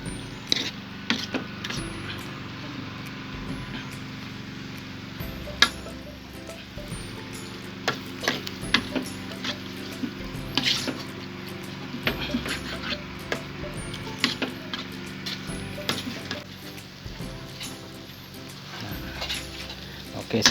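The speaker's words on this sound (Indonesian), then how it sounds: "kita aduk lagi sebentar" A utensil stirs keumamah asam sunti, a dried-fish dish, in a hot pan, making a low sizzle with scattered light scrapes and clinks over about twenty seconds while someone talks.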